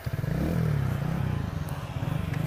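Phoenix Classic 50cc motorcycle engine running steadily, a low throbbing hum with a brief rising rev early on, close and continuous with light rattling.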